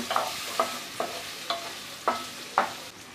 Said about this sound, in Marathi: त्यानंतर जिरं, कढीपत्त्याची पानं, हिरवी मिरची आणि कांदा, त्यानंतर हिंग परतून घेऊया.